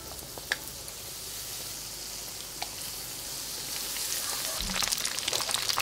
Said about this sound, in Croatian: Sada uzimam komad džigerice i ovako ga samo uvaljam i spuštam u vrelo ulje.